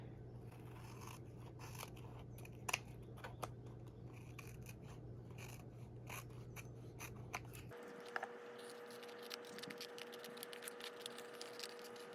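Scissors trim excess paper from a junk-journal tag, making a few faint close snips and light paper scrapes in a quiet room.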